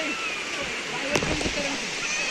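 Rushing cold water at a waterfall makes a steady, loud broadband roar throughout, with a brief splash near the middle and a few voices faintly underneath.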